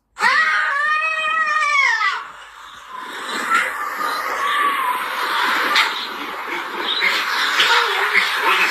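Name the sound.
little baby screaming and crying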